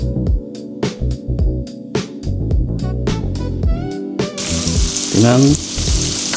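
Garlic and onion sizzle loudly in hot oil in a pan for Filipino-style sizzling gambas, close up with stirring clatter, a brief spoken word and a louder hissing surge near the end.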